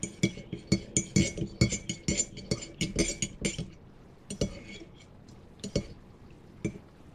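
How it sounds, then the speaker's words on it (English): A metal spoon clinks rapidly against a glass or cup while stirring Vietnamese coffee with sweetened condensed milk, a dense run of bright taps that thins out into a few scattered clinks. "stir it up"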